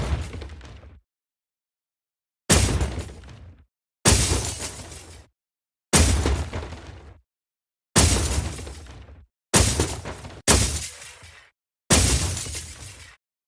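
Debris sound effects built with granular synthesis in Phaseplant for game audio: eight separate loud crashing bursts of shattering, breaking rubble, each decaying over about a second, separated by silence.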